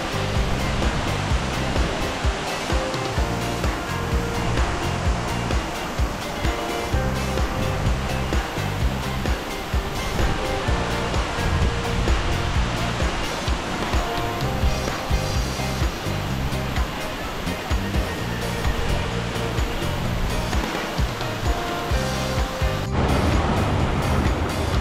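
The Curug Lawe waterfall in Kalisidi village pours with a loud, unbroken roar that stays steady and close throughout, with no voices.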